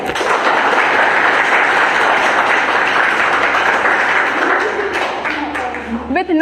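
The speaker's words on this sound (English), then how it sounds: "So give a huge round of applause to them." Students applaud guests before a school debate on forests, a loud, continuous wash of clapping from a crowd that fades toward the end as a voice begins to speak.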